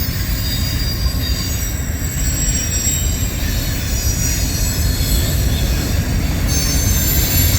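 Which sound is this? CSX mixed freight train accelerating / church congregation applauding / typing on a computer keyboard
CSX mixed freight train accelerating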